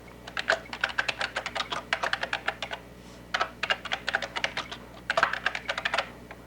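Fingers type rapidly on a computer keyboard in a Word 6.0 for Windows tutorial, producing bursts of crisp, close keystrokes separated by short pauses.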